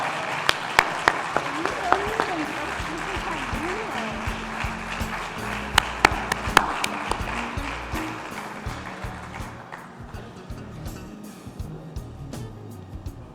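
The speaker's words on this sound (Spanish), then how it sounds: "¿Pueden aplaudirla," Audience at a public health symposium applauds a newly ratified school director, a steady wash of many hands clapping with a few sharper claps, fading out toward the end.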